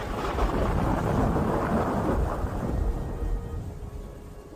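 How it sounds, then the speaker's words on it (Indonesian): A thunderstorm with heavy rain and rolling thunder, the steady dense roar of rainfall carrying low rumbles throughout, loud and continuous with no voices. "memandangi rintik hujan yang disertai kilatan petir"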